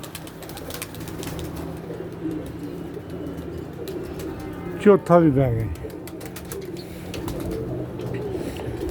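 Pigeons let out a short burst of cooing midway through, standing out over a low background murmur, while people talk nearby.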